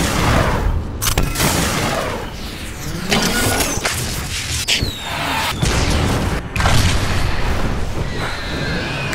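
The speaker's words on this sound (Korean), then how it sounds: "에이식스, 미사일 발사!" A loud missile launch in the animated series Armored Saurus, with a dense run of booms, blasts and whooshing bursts that crash repeatedly throughout.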